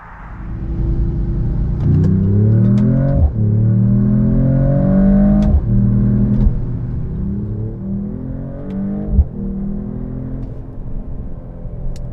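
Mercedes-AMG 3-liter turbocharged inline-six pulling hard through several upshifts, a loud, steady engine roar whose pitch climbs repeatedly and drops at each gear change, heard close from inside the car with no talking.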